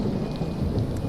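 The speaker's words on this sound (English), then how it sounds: "our survivors don't like working in the rain." Steady rain with low thunder rumbling through the weather of the survival game Stranded: Alien Dawn, a dense continuous wash at even volume across the whole stretch, with no voices over it.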